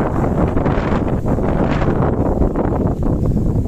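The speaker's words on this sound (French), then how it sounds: "Aujourd'hui, je vais avoir un super vent comme hier défavorable." Strong, steady wind buffets the microphone by the sea, a continuous dense roar with no pauses and no voices.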